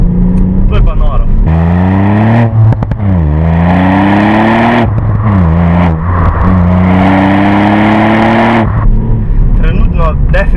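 A Ford Fiesta ST's small three-cylinder engine revs up and down repeatedly, its exhaust droning and rising in pitch, loud and close throughout.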